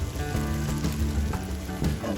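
Browned meat sizzles steadily in a Dutch oven as a couple tablespoons of flour go in, a close, continuous frying crackle with low clinks underneath.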